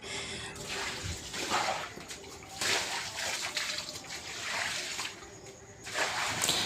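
Water splashes and sloshes down a staircase being washed, in uneven surges and gushes with a steady trickling wash between them, fairly close and loud, with no talking.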